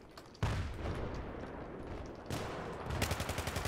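Gunfire in the video game Battlefield 3, hardcore mode, with bursts of loud close automatic shots, then a rapid rhythmic volley at the end.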